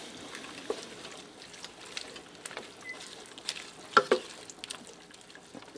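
Spinach stirred into macaroni soup in an Instant Pot Superior cooker makes a soft, wet swishing with faint scrapes, broken by a couple of sharper clicks about two-thirds of the way through.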